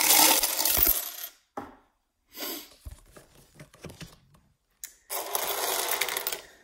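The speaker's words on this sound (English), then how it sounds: "we're going to sort out the coins and see if we can make a better prediction of" Coins pour out of a jar onto a surface for sorting, in several jingling, clattering bursts separated by short pauses, the last burst long and dense.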